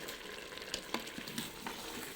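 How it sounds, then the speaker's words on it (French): Paella seasoned with pepper and salt is stirred in a pan, with a soft continuous sizzle and a few scraping strokes of a utensil close by, fairly quiet and without speech. "Je mélange."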